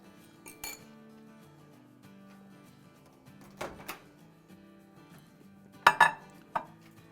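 A bowl of khoya mixture goes into a microwave: a few light clinks and a door knock, then a sharper clatter as the bowl is set down and the door closes, all faint against a quiet hum.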